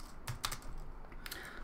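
Quiet, quick keystrokes on a computer keyboard, a short irregular run of light taps recorded close up with no talking.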